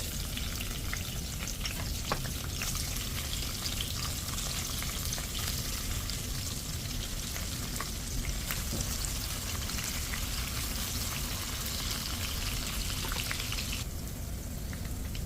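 Cumin seeds and onion sizzling in a pan for khichuri, a steady dense frying hiss with occasional stirring scrapes, close and continuous throughout with no talking.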